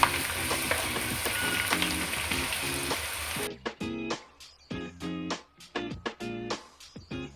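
Onions and green chillies fry in oil for a Telangana-style mutton curry, a dense close sizzle that drops off midway into sparse crackles and irregular stirring knocks and scrapes in the pan.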